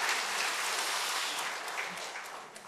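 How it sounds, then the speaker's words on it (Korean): Church congregation at a Sunday worship service applauding, a dense, steady clapping from a room full of people that fades slightly toward the end, with no talk. "다시 큰 박수로 우리 격려하겠습니다"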